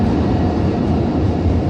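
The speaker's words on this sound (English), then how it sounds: "I can hear the electric streetcar coming" An electric streetcar built in Dusseldorf rolls past in Calgary, Alberta, as a loud, continuous close rumble and rush of wheels and motor that stays steady throughout, with no voices.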